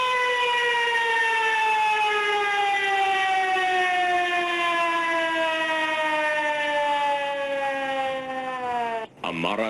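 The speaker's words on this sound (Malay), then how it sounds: "Ini adalah bunyi siren amaran tsunami." A Malaysian tsunami warning siren wails in one long, loud, steady tone that slowly sinks in pitch, then cuts off abruptly near the end.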